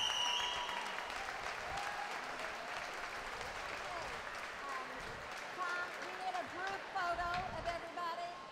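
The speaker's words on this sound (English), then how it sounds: "congratulatory applause" A crowd at a swim meet gives sustained congratulatory applause for scholarship recipients, a dense, steady roar of clapping that continues for over eight seconds in an echoing natatorium, with voices and whistle-like tones mixed in.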